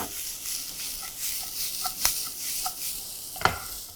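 Veg Manchurian gets a quick stir in a hot pan: a soft sizzle with a few scattered spoon scrapes and two sharper knocks against the pan, faint and close, with no speech.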